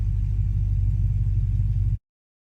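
A third-generation Hemi V8 runs steadily at idle with a deep, close, continuous rumble, then cuts off abruptly about two seconds in, leaving silence.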